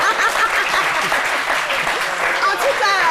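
Loud, dense applause from a television studio audience, steady and unbroken from start to finish with no talk over it.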